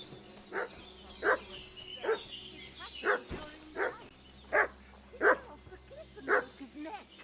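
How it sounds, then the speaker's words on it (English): A dog in the medieval game Kingdom Come: Deliverance II barks repeatedly in an even rhythm, about eight sharp barks at moderate distance over quiet ambient background. "What's that dog making such a fuss about?"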